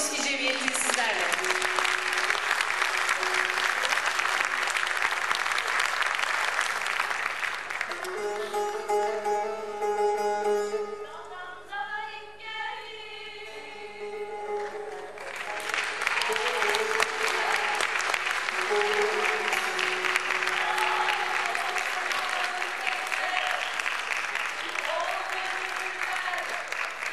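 A concert audience in a hall applauds a Turkish folk music choir, the Dragos Music Society; sustained, dense clapping fills the opening, pauses briefly for a tonal, voice-like passage in the middle, then resumes just as loudly to the end.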